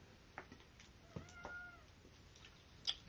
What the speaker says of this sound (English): You guys might have heard my cat.